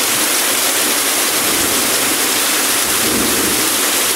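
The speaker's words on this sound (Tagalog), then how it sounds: "Pakalakas ng ulan." Heavy rain pours down in a dense, constant roar of hissing noise with no pauses, loud and close, during a flood in Barangay San Rafael 3.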